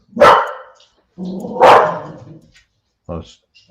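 Dogs barking loudly and close by, two sharp, full barks a second or so apart followed by a shorter yip, with quiet gaps between.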